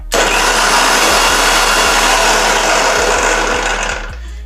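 A kitchen blender whirs steadily as it mixes a milk shake thickened with milk, a loud continuous motor drone that runs alone for about four seconds before starting to wind down.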